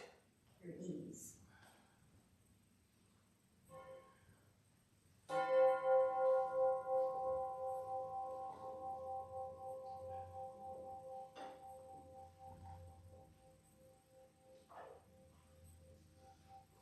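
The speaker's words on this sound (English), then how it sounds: "I'm going to ring the chime with the hope that the sound of the chime resonates with your ease." A chime struck once during a Sunday worship service, a clear bright ring that sustains and slowly fades over many seconds, after a brief bit of soft talk.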